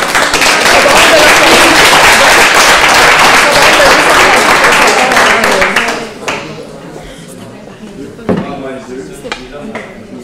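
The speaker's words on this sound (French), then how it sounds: "On peut les applaudir." Audience applause for quiz teams at a human-resources symposium competition, a loud dense clapping burst that fills the first six seconds, then fades to scattered claps and murmuring voices.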